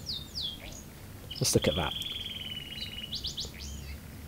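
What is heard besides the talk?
bird chirping in Heavy Rain video game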